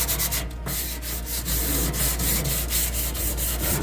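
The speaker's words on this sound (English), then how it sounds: "Right here on the corner, there's a little bit of rust, which I'm going to be taking off." Sandpaper scrubs rust off a corner inside a microwave oven, a steady, close, rough rasping that runs continuously with a quick rhythmic back-and-forth texture.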